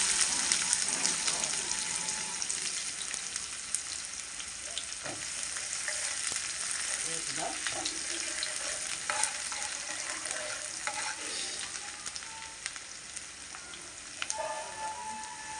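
Onions sizzle and fry in a pan with constant loud crackling, close up, plus occasional stirring scrapes and pops over the whole stretch.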